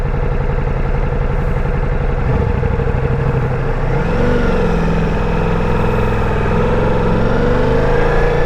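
A Ducati Multistrada V4 Rally's exhaust drones steadily at close range, its pitch shifting as the engine moves between idle and light revs, with no talk over it.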